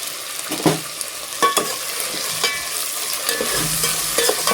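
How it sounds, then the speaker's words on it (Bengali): Onions frying in a pan with ginger-garlic paste, a steady close sizzle broken by a few sharp scrapes and stirring knocks of a spoon against the pan. "তো পেঁয়াজটা এখানে ভাজা হতে থাকুক।"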